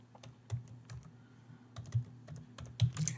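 Computer keyboard typing in short bursts of clicks with brief pauses, close and fairly quiet, with no talking over it.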